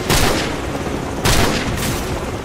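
Gunfire in Call of Duty 4: Modern Warfare on Xbox 360, two loud bursts of shots about a second apart over a steady rumbling battle background, with no talking.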